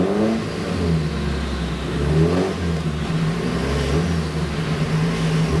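A car engine revs hard at full throttle on a dyno, a loud, sustained drone with rising and falling pitch sweeps throughout, close and continuous with no talking.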